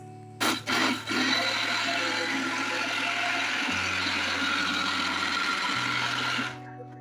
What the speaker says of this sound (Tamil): இதில் நாங்கள் அரைக்கிறதுக்கு முன்னாடி கொஞ்சோன்னு ஒரு 1/2 கிளாஸ் தண்ணி ஊற்றி நல்லா அரைச்சி உங்களுக்கு காமிக்கிறேன்